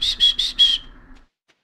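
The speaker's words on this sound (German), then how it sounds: "In welchem Spiel hat man denn immer nach seinem Pferd gepfiffen?" In the video game Stardew Valley, a whistle calls the horse: four quick high shrill bursts in a row, close and clear, then silence.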